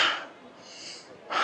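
Heavy breathing and panting after climbing the steps up to a shrine on Enoshima, Japan, close to the mic: strong breathy exhales open and close the stretch, with a softer hiss between them.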